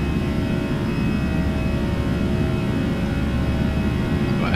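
Airbus A320 jet engines held at climb power in X-Plane 11, a steady, loud, even roar with a low rumble and faint tonal whine throughout.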